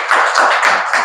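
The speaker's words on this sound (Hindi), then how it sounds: "इनके लिए तालियां बजा दीजिए।" Students in a class 5 classroom clap together, a loud, dense, continuous patter of many hands filling the room at close range without a break.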